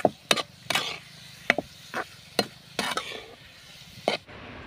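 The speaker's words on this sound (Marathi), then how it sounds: "तर कांदा छान आपण परतून घ्यायचा आहे." Onion sautés in a pan for a yellow potato bhaji, with a soft sizzle underneath. Sharp, close scrapes and knocks from a spatula or spoon come in irregular bursts, and no one speaks.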